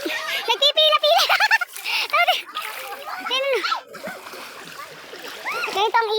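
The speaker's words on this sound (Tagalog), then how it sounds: "andito tayo sa ilog. Tapos may mga bata at mga dalaga." Children and young women bathe in a river, with water splashing and sloshing close by under constant lively chatter and children's voices.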